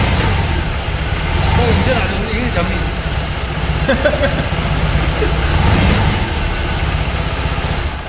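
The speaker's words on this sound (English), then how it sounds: "And when you rev, it moves to the left." A BMW R18 motorcycle engine idles with a steady low rumble and swells in a couple of short revs, heard close and fairly loud throughout.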